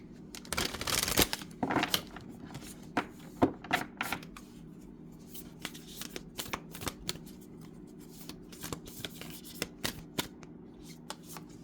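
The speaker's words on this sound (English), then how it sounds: "we're going to pull out one oracle card from our Lightworkers Oracle deck" A Lightworkers Oracle card deck is shuffled by hand close up, with dense crisp riffling at first, then sparser card flicks and taps spaced through a quiet room.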